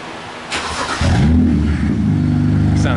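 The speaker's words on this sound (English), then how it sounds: "open downpipe startup." A BMW 335i engine with an open downpipe fires up after a brief crank, settling into a loud, raspy idle with a deep rumble that carries on steadily close to the microphone.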